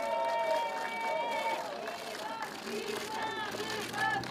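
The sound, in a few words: audience applause at a political rally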